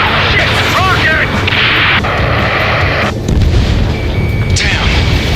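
Explosions and heavy booms from rocket strikes in the combat flight game Ace Combat 7: Skies Unknown, a loud dense barrage with rumbling blasts and bursts of fire filling the whole stretch amid radio chatter and game effects.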